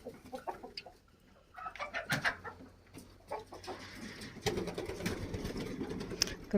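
Chickens let out of an open shed to graze, clucking and chattering in irregular bursts at moderate distance, growing busier and louder toward the end with rustling movement underneath.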